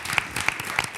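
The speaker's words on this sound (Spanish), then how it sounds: "pues un aplauso para Andrés Llena." An audience applauds at an interview event, a soft continuous patter of many hands lasting about a second.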